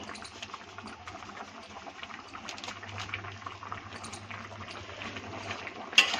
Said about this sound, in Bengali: আর একটুখানি ফুটাবো, নামিয়ে নিব